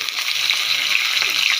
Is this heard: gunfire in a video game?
no